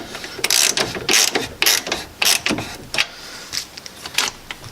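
Ratchet clicking in rapid bursts while tightening the battery hold-down bolt on a Toyota Corolla, several loud close strokes with short pauses between them.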